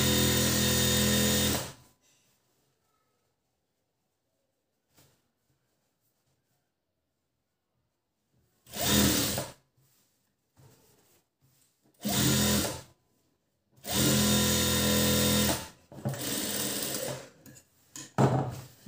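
A sewing machine stitches fabric along a straight line while a garment is fitted, running in several loud bursts of rapid whirring with silent pauses between them and no voices.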